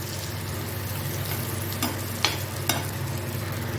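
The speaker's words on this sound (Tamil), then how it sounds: "இப்போது இதை வந்து லைட்டாக கிண்டி விடலாம்" Steady pan sizzle of egg masala being sautéed with salt and turmeric, with a few scraping clinks of a spoon stirring, close and continuous, no voices.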